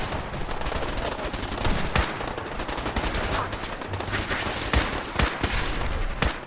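Fallout 4 gunfire while defending the Castle: dense, continuous volleys of rapid shots with a few louder cracks standing out, and no talking over the barrage.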